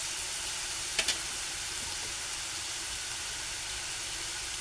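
Oil sizzles steadily under snake gourd slices pan-frying for a spicy Marathi-style dish, a constant close hiss with two brief clicks near the start and no voices.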